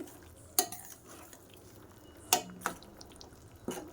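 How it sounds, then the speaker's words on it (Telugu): Fox nuts and cashews stirred in a cooking pot, with a few sharp clinks and scrapes of a spoon against the pot spaced out over quiet background, heard close and alone. "చూడండి ఇలా మిక్స్ చేసేసుకోవాలి"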